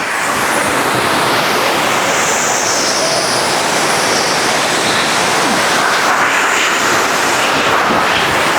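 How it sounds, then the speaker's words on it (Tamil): A waterfall in Ooty pours with a steady, loud, broadband roar of rushing water, close by and unbroken throughout, with no voices over it. "இதே வாட்டர் ஃபால் தான்"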